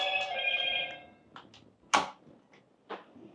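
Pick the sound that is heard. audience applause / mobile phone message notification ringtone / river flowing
mobile phone message notification ringtone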